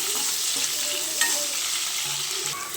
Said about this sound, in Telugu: సో ఎర్రగడ్డలు బాగా వేగనిచ్చేద్దాం